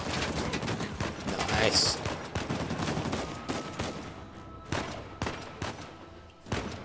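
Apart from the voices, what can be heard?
gunshots from a big gun in the video game Uncharted 4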